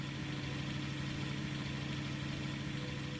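Old car engine idling in the Jalopy video game, a steady low rumble with a constant hum that holds at an even level throughout, with no talk over it.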